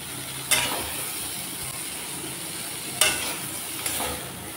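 Cauliflower and potatoes fry in a wok with a steady, close sizzle, broken by a few sharp clatters of a stirring utensil against the pan, no talking.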